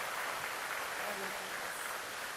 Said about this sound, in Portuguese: Aplauda a Jesus, glória a Deus.